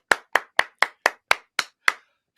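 Eight sharp, evenly spaced claps ring out in a steady rhythm with clear gaps between them, then a ninth begins, cheering Wendell at an Extreme Makeover: Home Edition behind-the-scenes talk.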